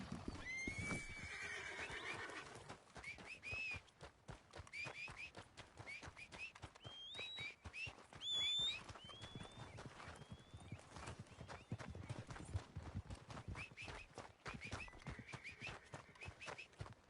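A horse in Red Dead Redemption 2 Online whinnies loudly several times over a steady clip-clop of hooves, with faint bits of background game sound.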